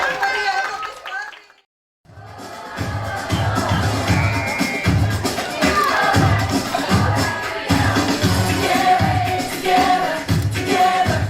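Loud audience applause with crowd chatter and cheering fills a graduation arts show, a steady wash of clapping over background music after a brief silence.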